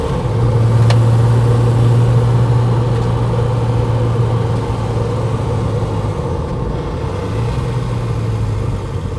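A 1968 Mercedes 280SEL with a four-speed manual and lower-ratio rear end drives along, engine droning steadily from inside the cabin with subtle changes in pitch as it shifts gears.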